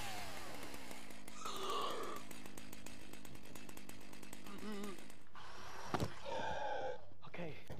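A chainsaw drones continuously in a horror hide-and-seek video game, its buzzing motor running steadily and surging briefly, with a loud bang near the end and occasional talk layered over it.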